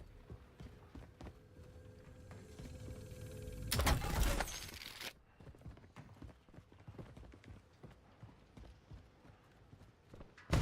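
Footsteps in a video game: a run of quick, soft, evenly spaced steps close by, following a brief loud burst of game noise, with no one talking.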